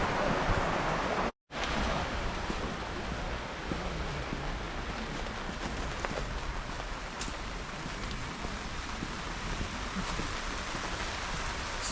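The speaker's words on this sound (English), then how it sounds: "Started to rain here as well." Rain falling over an outdoor market in Pristina, Kosovo, a steady dense hiss of drops on surfaces that continues throughout, broken only by a very brief dropout near the start.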